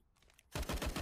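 An AUG rifle tap-firing in a CS:GO match, a close burst of several rapid, evenly spaced gunshots that starts suddenly after a quiet lead-in and carries on to the end.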